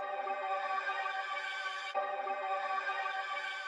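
Accent sample from the Noir Volume 3 kit, played in FL Studio: a dense, sustained dark tonal texture with a steady level, a brief break near the middle, then continuing unchanged.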